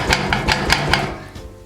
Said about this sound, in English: And we want to whisk, whisk, whisk again.